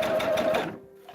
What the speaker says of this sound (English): I'm just doing a basting stitch on the bottom to keep these where they need to be.